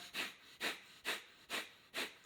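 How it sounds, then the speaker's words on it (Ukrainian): Fast, rhythmic breathing during a daily full-body functional warm-up, five forceful breaths in even succession about half a second apart, close and alone with no talk. "Я доволі таки швидко дихаю"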